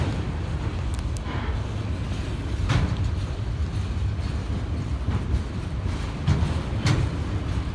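Freight train cars roll past at Lake Avenue in Blasdell, NY, a loud continuous rumble with rhythmic wheel clatter and brief metallic squeals, close by and without talk.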